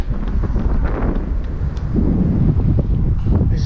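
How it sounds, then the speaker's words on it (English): Strong wind on a hilltop blasts straight into the microphone, producing a loud, continuous low rumble and buffeting that never lets up, with no talking. "This is like exactly where the wind is coming from, straight towards me."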